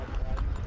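Horse hooves clip-clopping at close range in a steady, quick rhythm, loud and continuous over a short stretch, with some low rumble beneath.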